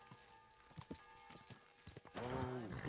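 A horse's hooves clip-clop at a walking pace in the medieval game Kingdom Come Deliverance, faint and sparse, before a louder sustained sound takes over near the end.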